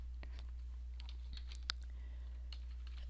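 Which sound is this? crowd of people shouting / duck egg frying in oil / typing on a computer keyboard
typing on a computer keyboard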